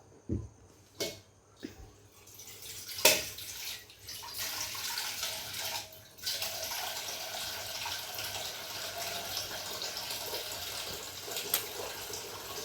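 Water pours into a pot for boiling vegetables, a steady, soft rushing stream after a few clanks at the start, continuing faintly and evenly in a kitchen.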